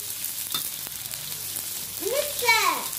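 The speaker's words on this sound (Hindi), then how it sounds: "अब डालेंगे प्याज," Onions drop into a hot pan of oil for egg and vegetable fried rice and break into a loud, steady sizzle, stirred close up, with a faint voice briefly in the background.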